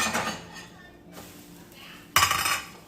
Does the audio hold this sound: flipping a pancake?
yes